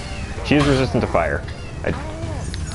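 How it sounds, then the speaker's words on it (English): A pet cat cries to be let outside, letting out drawn-out, wavering meows in the background while someone talks over them. "If you hear a crying noise in the background, that's one of my cats."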